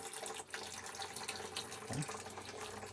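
Filtered water trickles briefly from the outlet of an RO/DI filter system, released by residual pressure, a soft hissing flow that is faint and broadband and lasts only a few seconds.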